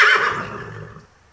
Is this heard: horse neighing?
yes